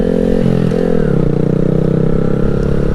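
A 2020 Honda Grom held in first gear, its small single-cylinder engine revving hard and close with a steady buzzing drone, a brief dip in pitch partway through, plus light clatter.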